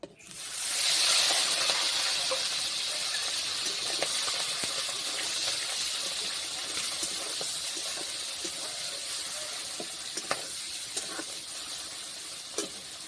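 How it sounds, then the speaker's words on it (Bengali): Cut prawns hit hot oil in a pan with a sudden loud sizzling hiss that gradually eases into a steady fry, broken by scattered pops and crackles; no one speaks. "দিয়ে দেব তেল আর কেটে রাখা চিংড়ি মাছগুলো দিয়ে দেব দিয়ে ভেজে নেবো"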